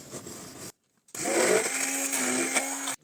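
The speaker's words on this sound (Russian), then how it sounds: "Сметанку с сахаром перемешиваем блендером." A kitchen blender whirs loudly while mixing sour cream with sugar, running in two bursts separated by a brief pause, the motor's steady high whine close and alone.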